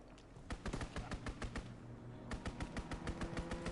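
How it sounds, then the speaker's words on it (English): Rapid machine-gun bursts from a strafing run in the video game Call of Duty WW2, a steady rattling stream of shots that pauses briefly and resumes, moderately distant and alone. "Strafing run inbound."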